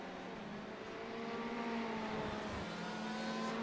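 A Ferrari race car in the iRacing sim enters the pit lane at Daytona International Speedway, a steady engine drone with harmonic whine holding for the whole stretch, moderately loud and without speech.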